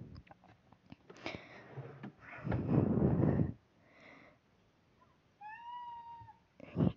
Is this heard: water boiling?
no